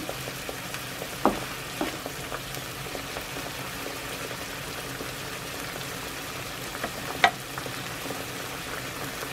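Adobong sitaw, string beans with pork belly in sauce, stirred in a pan over a bubbling simmer, with a couple of sharp utensil knocks amid a steady low sizzle, close, no talk.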